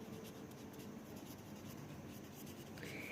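Chalk or marker scratching across a board as a teacher writes during a Class 10 physics lesson on Ohm's law, a steady faint rubbing texture in a quiet classroom.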